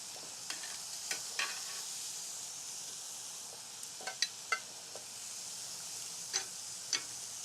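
Asparagus and fennel sizzle on an outdoor grill, a soft continuous hiss broken by sharp pops and scrapes of tongs at irregular intervals, close and without talk.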